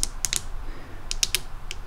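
Ratcheting joints on a Volks A3 F-15 ACTV Active Eagle toy robot give sharp, solid clicks, two quick clusters of several crisp ticks close up with a short quiet gap between them.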